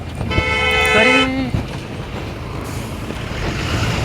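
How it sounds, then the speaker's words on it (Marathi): A large vehicle on a village road near a temple sounds a loud horn for about a second while passing close by. A low road rumble follows, and someone talks briefly. "इथं गाडी चालली मोठी."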